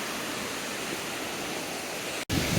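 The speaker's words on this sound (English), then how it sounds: "I can't wait to jump through the waterfalls." Rushing waterfall in Brecon Beacons National Park, Wales, a close, loud, even roar of falling water with no talk, briefly cut off near the end before resuming.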